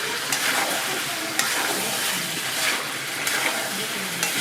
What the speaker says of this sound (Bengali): এবার আমি আলুগুলো দিয়ে দিচ্ছি। আলু দিয়ে খানিকক্ষণ কষাবো।